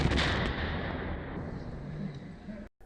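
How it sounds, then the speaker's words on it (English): The noon gun on Signal Hill, Cape Town fires a single loud boom at midday, a broad blast that rolls on and decays over a couple of seconds before cutting off. "Cape Townians are alerted by a loud boom coming from the noon gun on Signal Hill."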